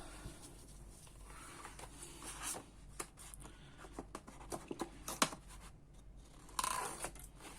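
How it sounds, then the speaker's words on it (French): Large scissors snip through paper for a scrapbooking album, a close series of short, crisp cuts with small irregular pauses between them, heard alone and fairly quietly. "je prends les grands ciseaux"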